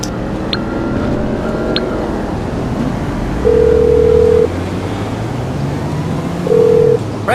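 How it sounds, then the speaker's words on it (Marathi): Phone call ringing in the GTA 5 video game, two long electronic ring tones sounding over a steady engine-like game background hum, the second ring shorter, with brief game noises around them. "आता मानेला फोन करून"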